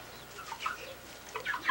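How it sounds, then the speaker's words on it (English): Chickens cluck softly at a feeder stocked with hemp seed, making scattered short calls that come in small bursts and grow busier toward the end, with no talking. "these chickens are going crazy with it on the hemp seed half"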